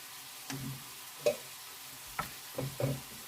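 Cabbage and pepper frying in a pan for a summer soup, a low sizzle broken by several clattering stirs and scrapes, close and moderately loud.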